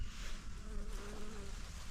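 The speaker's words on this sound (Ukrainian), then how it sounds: "бджола працює" A faint, thin buzzing drone of a bee working flowering raspberry bushes hovers over soft background noise, wavering in pitch for about a second.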